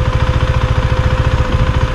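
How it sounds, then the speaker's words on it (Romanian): A KTM Duke 390 motorcycle engine idles steadily with an even, rapid low throb, close and continuous with no talk. "KTM Duke 390 este motorul meu de acum."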